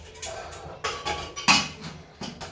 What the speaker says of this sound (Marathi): तर आता मी बटाटे कुकरला लावते, आता झाकण लावायचं पाहिजे